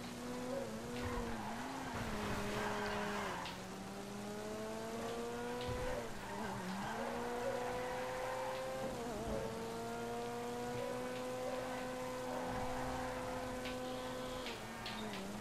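A Ferrari V8 in GTA V revs steadily through rising and falling gear sweeps while the tires squeal and skid, a continuous loud engine drone lasting throughout without talk.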